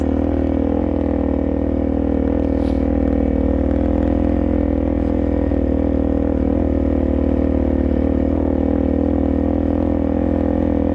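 A dirt bike ridden through cold winter mud and ruts, its engine droning steadily and loud with a low rumble throughout, no talking.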